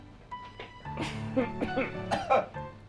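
One person coughs a few times in quick, harsh bursts, close and moderately loud, with low household background.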